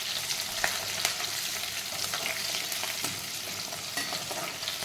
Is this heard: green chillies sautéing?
yes